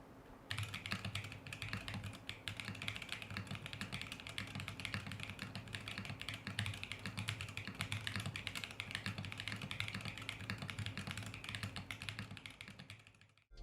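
Continuous, fast typing on a mechanical keyboard with Harimau tactile switches made by JWK, with dense, crisp key clacks close to the microphone and no talking.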